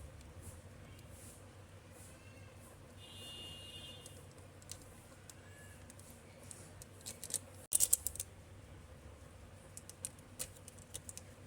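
Scissors cut open a noodle masala packet, a few faint, close snips and crinkles of plastic over a quiet room background, with one sharper burst of cutting partway through.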